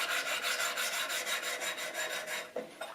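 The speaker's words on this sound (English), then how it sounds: "This is like an 800 grit. I just want to flatten this area just a tiny bit." Rapid back-and-forth strokes of 800 grit abrasive flatten the frets of a Fender Stratocaster, a close, bright, rhythmic rasping that stops near the end, with a couple of faint knocks.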